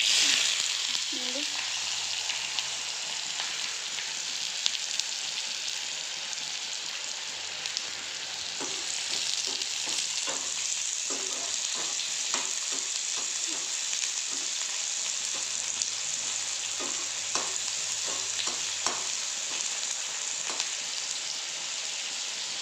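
Onions frying in hot oil, a steady crackling sizzle with sharp pops and bursts of stirring scattered throughout, close and unbroken.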